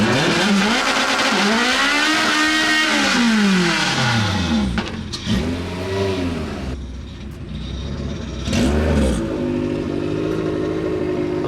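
A fully built hatchback car launches, its engine revving hard through rising and falling sweeps, loud and close, with brief gaps between shifts and no voices.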